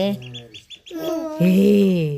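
Two ducklings peeping at close range, a run of short high chirps followed by louder, longer wavering calls, with no one talking.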